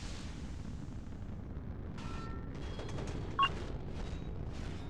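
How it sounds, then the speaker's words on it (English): A missile launch in a 5v5 video game match, heard as a steady low rumble with brief mid-clip bursts of noise and a short sharp tonal blip, loud and continuous throughout. "Missile launched."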